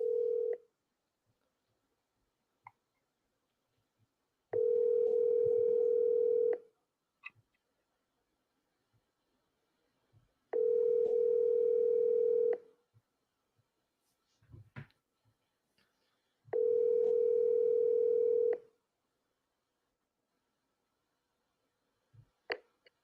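Outgoing phone call ringback tone sounding three times, each a steady two-second tone separated by long quiet gaps with faint clicks, close and clear without talk.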